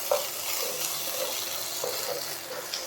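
A spoon stirs coriander paste through a methi rohu fish curry in a pan, soft wet scraping and gentle sizzling in a steady loop with a few light clinks, close and moderately quiet.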